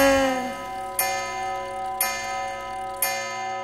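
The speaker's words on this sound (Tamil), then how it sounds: "டிக் டிக் டிக் கடிகாரம்" A clock in an animated Tamil children's rhyme ticks steadily, with a sharp tick about once per second layered over a sustained musical backing.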